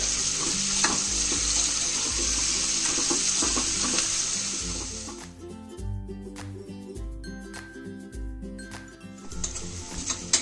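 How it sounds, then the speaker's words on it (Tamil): Onions sizzle steadily in hot oil, loud at first, then quieter as stirring clatters and pan noises break in. "அது வரைக்கும் நல்லா ஃப்ரை பண்ணணும்"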